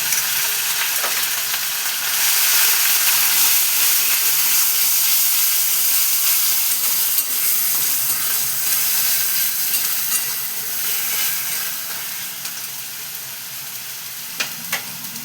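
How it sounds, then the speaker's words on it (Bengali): A paste of onion, ginger, green chili and garlic hits a hot tempering and fries with a loud, continuous hissing sizzle, easing slightly toward the end with a few stirring clicks. "এবার আমি ওই যে পেঁয়াজ, আদা, কাঁচা লঙ্কা, রসুন বাটাটা আমি দিয়ে দিলাম।"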